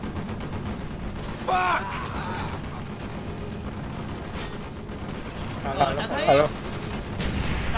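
Call of Duty: Black Ops battle gunfire in a street fight with a tank nearby, a dense steady crackle of shots throughout with a couple of louder bursts, while voices shout over it.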